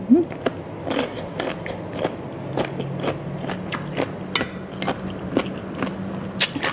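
Someone bites into crunchy bullet jellyfish dipped in seafood sauce, eaten with fresh vegetables: repeated close, crisp crunches and chewing clicks in a steady rhythm, with faint murmuring underneath.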